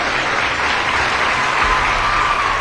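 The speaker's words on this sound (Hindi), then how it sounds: "एक बार दिल से जोरदार तालियां हो जाए।" Audience applause fills a large annual corporate celebration hall, a dense, steady wash of many hands clapping throughout, loud and continuous with crowd cheering mixed in.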